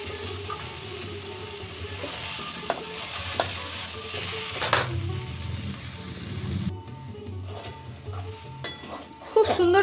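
Steady sizzling of radish and pumpkin frying in a pan, with occasional stirring scrapes and clinks of a utensil against the pan.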